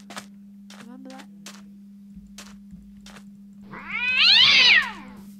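An ostrich creature in the CrazyCraft Minecraft modpack makes cat-like calls: several short, separate meows, then a longer, louder, wavering yowl that rises and falls. A steady low hum runs underneath throughout.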